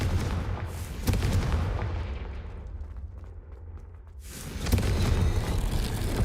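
A Confringo fire spell bursts in Hogwarts Legacy, a loud booming explosion that rumbles and fades over a few seconds before another heavy blast follows.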